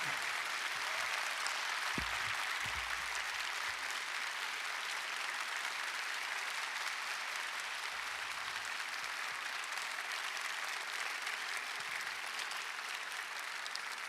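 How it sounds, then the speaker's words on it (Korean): A church congregation at a Korean revival service in Fullerton, California claps to welcome a pastor, a long, sustained roar of many hands heard at a distance and fairly soft, steady throughout without speech. "사랑합니다, 감사합니다 하시는 마음으로 박수로 맞이해 주시기 바랍니다"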